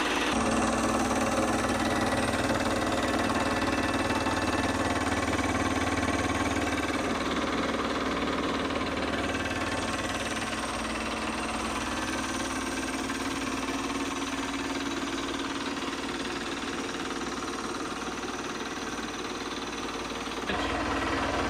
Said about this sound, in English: Turn on the switch, runs from the top wire to the motor, then spins the belt.